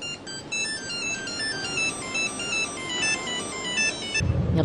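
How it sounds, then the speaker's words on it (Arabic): A mobile phone ringtone plays a repeating electronic melody indoors, steady and fairly loud, cutting off near the end as a brief rustle follows. "رد على التليفون"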